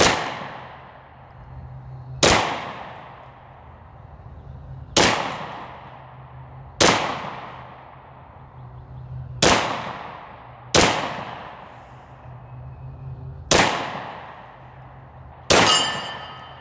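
Eight shots from a Ruger LC Carbine spaced a couple of seconds apart, each a sharp crack with a ringing metallic clang from bullets striking a steel plate on a stump, decaying between shots outdoors.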